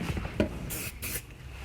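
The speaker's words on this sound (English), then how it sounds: "I'm just going to shoot the aerosol into the cup holder area" Aerosol dressing is sprayed into a car's cup holder in two short hissing bursts, heard close up after a little rubbing and handling noise.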